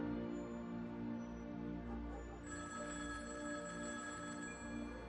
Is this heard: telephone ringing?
yes